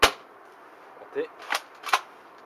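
ASG SPAS-12 spring-powered airsoft shotgun fired once with a sharp, loud snap, followed by a few fainter clacks of the mechanism being worked and cycled.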